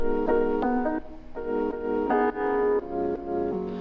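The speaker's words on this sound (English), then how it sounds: "I chopped up the piano a good amount." Short chopped piano chords repeat in choppy bursts over a steady low bass, with side-chaining on piano and bass, forming a looping beat pattern with brief gaps between stabs.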